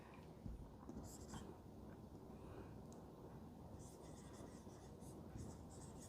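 Chalk or marker scratching on a board during a game theory lecture: quiet, continuous scribbling strokes with brief louder scrapes over a soft room hiss.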